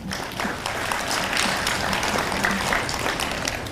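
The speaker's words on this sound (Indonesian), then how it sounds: "Aplaus untuk Ustaz." Audience applause for a preacher at a religious lecture held at Sultan Syarif Ali Islamic University in Brunei Darussalam, a steady wash of clapping from a crowd sustained evenly throughout without speech.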